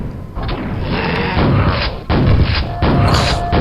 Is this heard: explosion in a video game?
yes